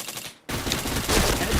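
Automatic gunfire in the shooter game Point Blank bursts in after a brief quiet moment, then continues as a dense, loud rattle to the end.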